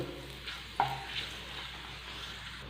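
Two papadums fry in a small amount of oil with a soft, steady sizzle and faint crackle, punctuated by a quiet clink of a utensil against the pan.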